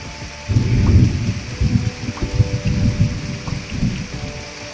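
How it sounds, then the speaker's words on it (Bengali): Loud, close downpour of heavy rain drumming on a surface over an open field, with low rumbling bursts mixed in, steady for a few seconds. "প্রচুর বৃষ্টি মাঠে থাকা যাচ্ছে না"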